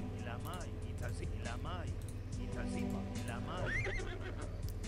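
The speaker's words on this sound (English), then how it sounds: "so let's get some horses here" Several horses neigh and whinny in a colonial-era strategy game featuring Native Americans and cowboys, repeated whinnies rising over a steady game soundtrack while someone talks throughout.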